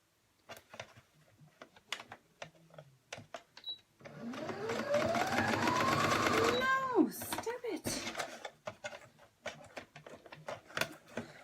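A sewing machine stitches a doll shirt in a quick mechanical run of clicks and rattle lasting a few seconds. Scattered taps come before and after it, and a voice talks over part of the run.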